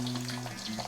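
Koftas frying in a pan of hot oil, a continuous close sizzle with crackling pops over a low steady hum, no voices.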